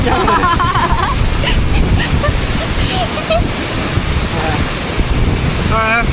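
Rushing water at Khau Làn waterfall on the Ha Giang Loop, a steady loud roar with wind buffeting the microphone, and a few brief voices heard over the torrent.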